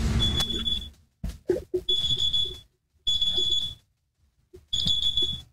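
A phone alarm sounds in a room as a steady high electronic tone in three or four repeated bursts, each cut short by silence, with handling knocks and clicks in between and no speech.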